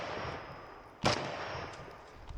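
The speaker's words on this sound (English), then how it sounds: "And then there were 3 steel out there that you had to shoot with your rifle" A single sharp gunshot at a 3-gun shooting match, rifle fire at steel targets, punching out over outdoor ambient noise, with a fainter pop right at the end.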